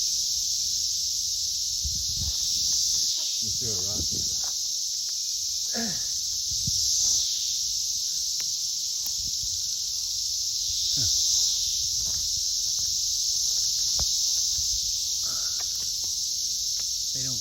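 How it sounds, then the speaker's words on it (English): Dense cicadas drone steadily and loudly in a high, continuous buzz throughout, with brief rustles, thumps and a short spoken remark beneath. "Try to get a picture of the cicadas flying away."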